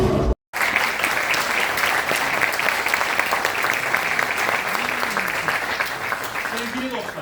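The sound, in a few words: audience applauding a village theatre play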